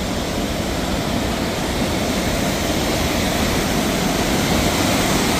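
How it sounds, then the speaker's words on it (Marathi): Floodwater from the swollen Godavari River rushes beneath a bridge at Panchavati in Nashik during heavy rainfall. It is a loud, unbroken roar of flowing water, constant and close throughout. "पाण्याचा फ्लो चेक करू शकता तुम्ही."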